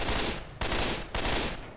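M16 assault rifle fire from Left 4 Dead 2, heard as three rapid, loud back-to-back bursts of automatic shots, close and dense with no talking.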